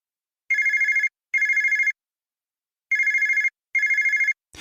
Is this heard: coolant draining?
no